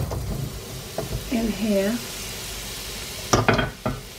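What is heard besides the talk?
jerk breadfruit ingredients with soy sauce frying in pan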